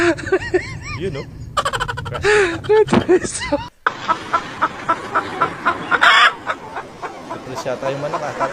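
A chicken clucks and crows in a loud, repeated run of squawks, heard close up and mixed with people talking and laughing over it.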